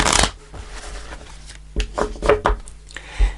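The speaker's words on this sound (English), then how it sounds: "Let's just shuffle a little bit and then we'll start pulling the cards" Tarot cards are riffled and shuffled in several quick bursts, crisp papery flutters close by with short pauses between them.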